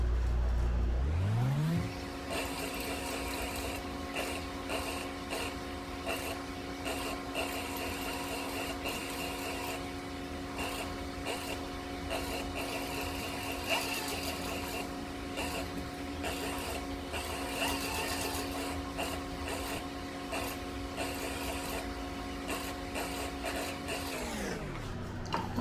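Industrial or leather sewing machine stitching a maker's mark onto a sling bag, a steady continuous mechanical whir that starts, holds evenly for about twenty seconds and then stops, with no talking.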